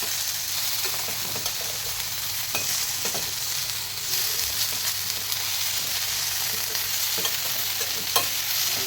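Prawns roast in an AMC pan without fat, a steady, fairly loud sizzle running throughout, with scattered clicks and taps from the pan and lid.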